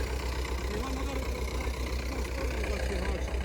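A BOMET cultivator engine runs steadily while tilling garden soil into a bed, a continuous mid-pitched drone heard from nearby, with voices talking over it.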